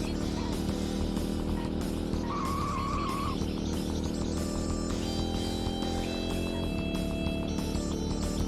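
A motorcycle braking and skidding in the Shenmue video game, with a steady engine drone under repeated tire squeals and skid noises across the whole stretch.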